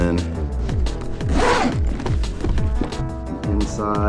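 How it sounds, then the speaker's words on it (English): A zipper is drawn along a handmade leather dopp kit lined with black leather, giving a close, repeated ratcheting rasp with rising and falling sweeps that speed up partway through. "Got the zipper on top."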